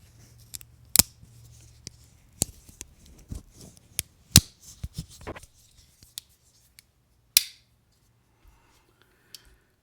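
Spring-loaded pliers on an Olight Otacle P1 micro multitool snap open and shut in a run of sharp, close, irregularly spaced clicks, thinning to a few isolated clicks near the end.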